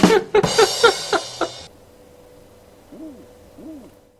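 Video game enemy gives two owl-like hoots, each a short rising-falling call, alone and moderately loud after a burst of rapid game impacts and effects.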